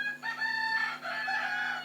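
A rooster crows close by, one drawn-out, strained call with a brief break, heard alone over a steady low hum indoors.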